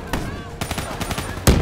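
Burst of gunfire from Call of Duty Black Ops 3 campaign combat, sharp rapid shots with a loud final crack near the end over game ambience.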